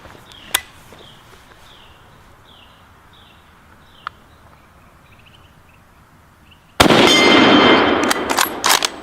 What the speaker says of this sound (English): Let's load this German Mauser and shoot it.